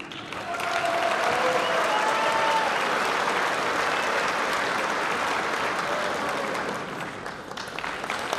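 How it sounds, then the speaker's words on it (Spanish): Audience applause in a theatre in Potosí at a government funding event, a broad sustained roar of clapping from a large crowd with faint voices and a few shouts inside it. "Fuerte el aplauso, hermanos potosinos y potosinas."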